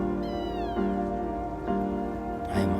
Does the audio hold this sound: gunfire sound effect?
no